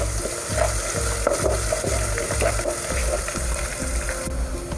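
Crushed small shallots frying with curry leaves in oil for a Kerala fish head curry, giving a dense continuous sizzle with rhythmic scraping strokes from a spoon, close and loud, without talk.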